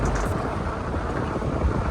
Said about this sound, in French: J'espère qu'on m'entend bien avec le vent là